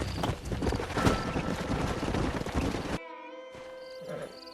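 A horse trots in Red Dead Redemption, its quick, close hoofbeats clopping for about three seconds before dropping away to a quieter tonal background.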